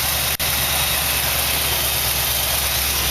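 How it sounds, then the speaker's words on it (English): A small engine idles steadily with its carburetor spitting back, a continuous close rumbling drone heard alone with no talk. "The carburetor is still spitting back"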